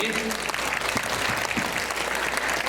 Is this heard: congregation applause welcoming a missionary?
yes